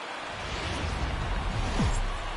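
Rain falls in the baseball video game MLB The Show 19, a steady hissing wash that stays even and continuous with no voices over it.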